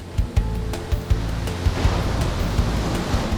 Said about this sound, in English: To give one a better perspective on how big and powerful Mavericks waves are